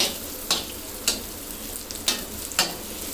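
Onions frying in butter with a pinch of salt for shahi paneer give a soft, steady sizzle, broken by four sharp scraping stirs spaced about half a second apart; no one speaks.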